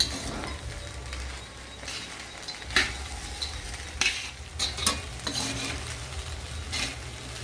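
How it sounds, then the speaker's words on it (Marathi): Sabudana khichdi being sautéed over medium heat in a pan, with a steady low sizzle and repeated scraping stirs and a few sharp clinks of the spoon against the pan, close and alone with no voices. "असं मध्यम गॅसवर आपल्याला याला अशी परतून घ्यायची चांगली"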